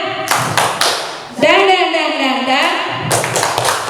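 A seated group claps a rhythmic spirit clap in sharp bursts, with voices chanting in a sustained, sing-song line between the rounds of clapping.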